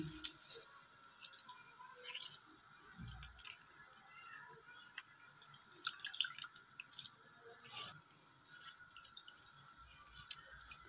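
Water dripping and squeezed out of homemade mozzarella cheese after a cold-water rinse, faint scattered drips and soft squishes with small splashes, quiet and close.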